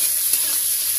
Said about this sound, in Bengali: তো এবারে পেঁয়াজ আর লঙ্কাটা একটু ভালো করে নেড়ে নেব